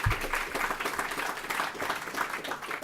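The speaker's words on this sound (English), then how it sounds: "So please give yourselves a round of applause" Attendees at a college and career pathways summit applaud themselves, giving a few seconds of moderate, even clapping from a room full of people with no voices over it.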